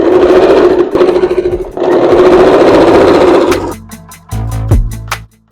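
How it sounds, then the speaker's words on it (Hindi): An electric sewing machine stitches a long cloth belt onto a handmade bed sheet with a loud, close, rapid mechanical whirring in two runs, then slows into a handful of separate clicks and knocks before stopping. "उसके ऊपर हम सिलाई करेंगे।"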